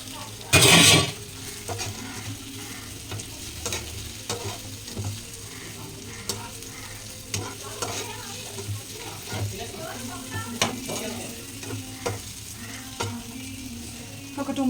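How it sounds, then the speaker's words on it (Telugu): Eggs stirred into a simmering egg curry in a pan, with a loud burst at the start, then steady sizzling and scraping of a utensil against the pan throughout. "ఎగ్స్ వేసేయండి."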